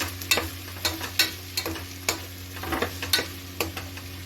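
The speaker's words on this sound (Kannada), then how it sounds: "2 ಸ್ಪೂನ್ ಉಪ್ಪು ಇಷ್ಟನ್ನು ಹಾಕೊಂಡು ಮತ್ತೆ ಇದನ್ನು ಫ್ರೈ ಮಾಡಿ" Chicken donne biryani masala with salt sizzles and fries in a pan while a spoon scrapes and stirs it in regular strokes, close and fairly loud, with no talking.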